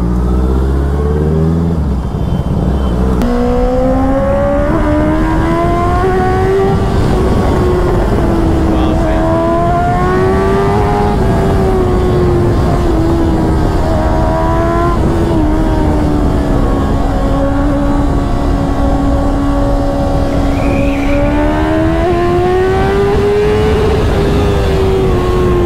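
An inline-four motorcycle, a Ninja 650 with Akrapovic exhaust or CBR 650R, screams close and loud as it accelerates hard, pitch climbing and dropping repeatedly through gear shifts, with someone speaking under the engine.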